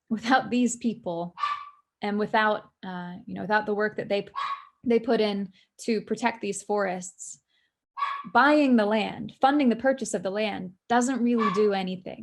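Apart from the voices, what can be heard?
dog barking in the background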